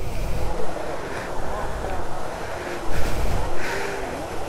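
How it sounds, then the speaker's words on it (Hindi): Waterfall at Netarhat in Jharkhand, a steady broadband rush of falling water heard close by, with gusty wind buffeting the microphone and brief surges in loudness. "वो रहा झरना"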